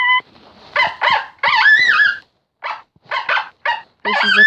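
A coyote caller plays a challenge call: loud, close series of sharp barks and yips, a longer wavering whine, then more quick barks, broken by brief silences, with no speech.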